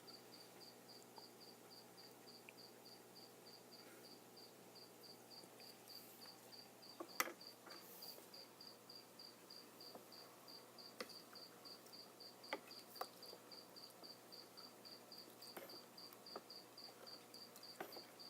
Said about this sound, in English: It's funny how we have real crickets when it comes quiet.